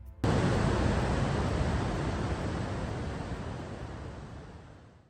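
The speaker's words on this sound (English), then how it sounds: "Victoria Falls stands as one of the most powerful displays of moving water on the planet." Victoria Falls pours with a broad, steady roar of heavy falling water that begins abruptly and then slowly fades, with no voices.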